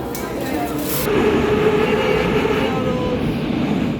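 A subway train at Sahil metro station in Baku rumbles loudly and steadily, with a rising roar of wheels on rails and a brief high squeal near the start, filling the whole stretch.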